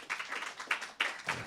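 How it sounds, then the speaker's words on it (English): Brief scattered audience applause at a stand-up comedy show, a few uneven bursts of clapping from a small crowd, fairly faint and short. "How many of you saw that by a round of applause?"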